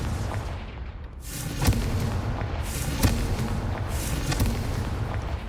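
Confringo spell explosions burst in Hogwarts Legacy, a string of booming impacts about every second or so over a rumbling game soundscape, loud and close.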